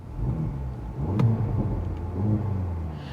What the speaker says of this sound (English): See if we can give you a quick exhaust clip.